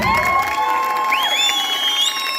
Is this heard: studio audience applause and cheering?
yes